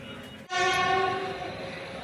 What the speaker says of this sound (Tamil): அது கரூர் திருச்சி வண்டி வந்துட்டு இருக்குது